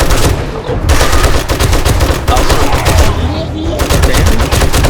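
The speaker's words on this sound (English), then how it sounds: "The machine gun shoots faster than Surge that already shot pretty dang fast." Rapid machine gun fire in the 7 Days to Die video game during a zombie blood moon, loud continuous bursts with short breaks, faint talk beneath.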